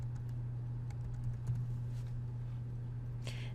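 Quick, light clicking keystrokes on a computer keyboard, faint and close, tapping in short irregular bursts over a steady low electrical hum.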